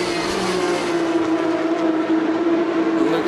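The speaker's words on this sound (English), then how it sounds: "Lovely to hear these cars' engines scream." Porsche Carrera Cup race cars scream past at the Nürburgring, a sustained high-pitched engine wail held steady and loud throughout, with no talk.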